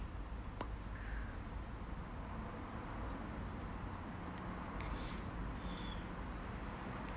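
A few crows caw at a distance over a steady outdoor rumble, with scattered calls spread across the stretch.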